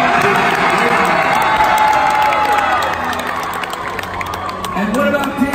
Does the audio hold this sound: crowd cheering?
yes